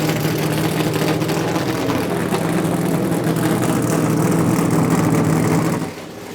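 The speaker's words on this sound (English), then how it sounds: "Oh, and you hear those engines." NASCAR race car engines idle and rumble together in the garage at Watkins Glen during the Cheez-It 355, a loud, dense, continuous drone that drops off sharply near the end.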